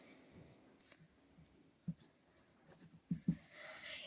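Chalk or marker strokes on a classroom board during a maths lesson, a few short scratchy taps and strokes spaced irregularly, fairly close and quiet.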